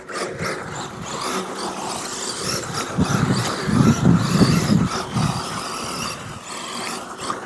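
A Tamiya DF-03Ra electric RC rally car drives through corners, giving a steady whirring motor drone with broadband gravel-like hiss, swelling louder and rougher mid-run before easing back.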